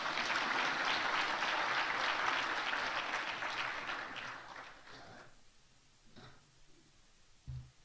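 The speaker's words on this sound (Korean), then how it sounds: "박수로 축하하겠습니다." A church congregation at a Sunday service applauds in celebration, a full, even round of clapping that fades out over several seconds into near quiet with a soft thump at the end.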